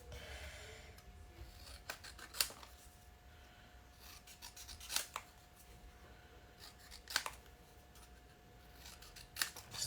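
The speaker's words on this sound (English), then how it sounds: "I'll just freehand cut this out." Scissors freehand cut out a stamped paper image, giving four sharp snips spaced a couple of seconds apart over faint, quiet rustling.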